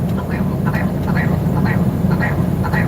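A willow ptarmigan gives a series of repeated, nasal, croaking call notes in a steady rhythm over a loud, continuous low background rumble.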